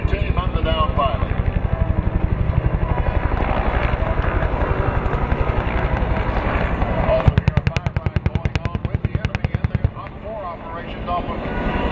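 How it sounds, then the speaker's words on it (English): A Huey helicopter flies in to land to pick up a rescue team and a downed pilot, its rotor thumping in a steady rhythm that grows sharper and more pronounced while a voice talks over it. "Off to your right, you'll see the first Huey coming in to pick up the rescue team and the down pilot."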